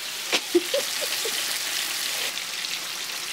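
Swai fish fries in a cast iron skillet with a steady, even sizzle throughout, broken by a few faint pops and spatters near the start.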